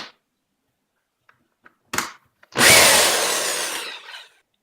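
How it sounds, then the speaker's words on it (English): A few small clicks and a brief buzz, then a power drill runs for a sustained stretch, grinding loudly through HDPE plastic for an axe sheath before winding down. "All I'm going to do is just drill through them."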